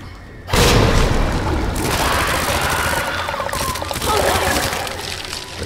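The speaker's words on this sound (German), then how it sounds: "Schöne Granate." A grenade detonates in the Resident Evil 2 Remake survival horror game, a sudden loud boom that settles into a long rumbling, splashing wash of debris and noise lasting several seconds, with no talk over it.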